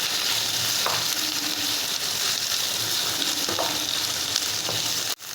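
Chopped capsicum frying with green chilli in a pan for chilli sausage gives a dense, steady, loud hiss that runs the whole time. A few faint scrapes sound under it, and it cuts off briefly near the end.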